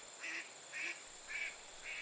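Ducks quacking in four evenly spaced bursts, each a short bright call standing out over a faint, steady outdoor background with no voices.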